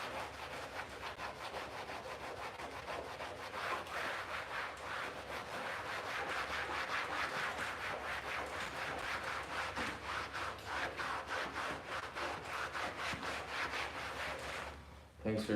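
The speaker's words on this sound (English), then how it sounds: "So you gotta find something that can scrub that crud out of there." A worn grey Scotch-Brite pad scrubs twenty years of grime from a Mini Cooper, making continuous rapid rhythmic rubbing strokes close up for about fifteen seconds.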